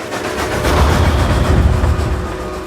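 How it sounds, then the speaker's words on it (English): A train roars past close by inside a dark tunnel, a loud continuous rumbling rush that swells and holds steady without any voices. "A train appeared suddenly"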